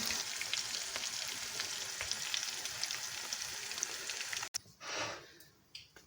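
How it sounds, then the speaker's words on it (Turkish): Steady crackling sizzle of stale bread frying in a pan, continuous and fairly close, then it quiets abruptly near the end with a few softer rustles. "Ekmeğimi kızarttım"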